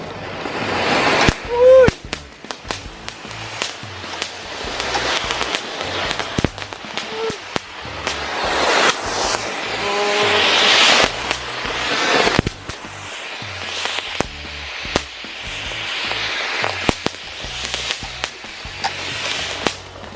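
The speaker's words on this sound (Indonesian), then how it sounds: "Air mancur super jumbo kita nyalakan." A jumbo firework fountain on a remote-control toy car hisses and crackles loudly and steadily for about twenty seconds, broken by sharp pops and snapping bursts.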